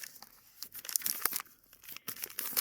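Crinkly plastic-and-paper packaging of an AeroPress Go travel coffee maker being folded in half, a run of sharp crackling and tearing rustles close up, uneven and bursty.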